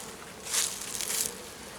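Honeybees buzz over a hive frame in a mountain apiary in early spring, a soft steady drone with a slightly louder swell of buzzing in the middle, close but faint.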